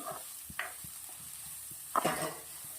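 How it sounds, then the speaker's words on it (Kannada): Onions fry in a pan with mustard seeds. A quiet sizzle runs under a string of light spatula taps and scrapes, with a brief louder stirring burst near the end. "ಸಾಸಿವೆ ಹಾಕಿದ್ದೀನಿ, ಈರುಳ್ಳಿ ಹಾಕ್ತಾ ಇದ್ದೀನಿ."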